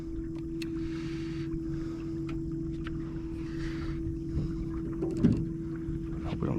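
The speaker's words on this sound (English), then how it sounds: "We'll set the trolling motor to about a 2 or a 3." Boat trolling motor running at low speed while trolling for white bass, a steady low hum holding through the clip with light water and boat noises over it.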